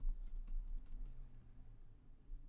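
Light typing on a computer keyboard, a quick run of soft clicks near the start and a single tap near the end, faint and close over a low hum, with no voices.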